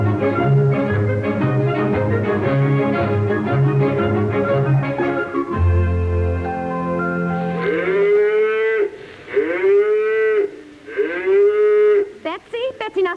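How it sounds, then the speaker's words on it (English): Cows low in a yard in a 1958 radio drama, several long drawn-out moos rising and falling close by, following a stretch of background music. "they're just cows"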